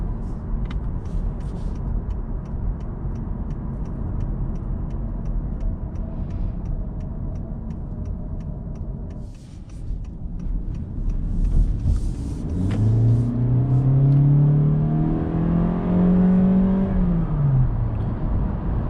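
A 2021 Honda Insight hybrid's engine at full throttle in normal mode, a steady interior drone that swells into a loud rising rev near the end, heard from inside the cabin.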